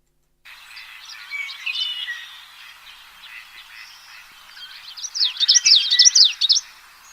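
Recorded bird calls play back as a busy run of chirps and tweets that swell into a louder, rapid trilling burst near the end, clear against a quiet background.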